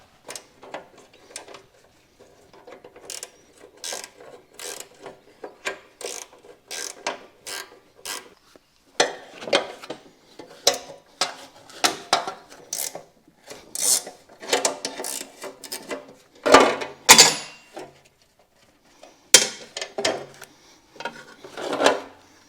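A ratchet wrench works loose bolts on a Cub Cadet 1872 mower, giving bursts of quick clicking and rasping strokes close by, in irregular runs separated by short pauses, with no talking.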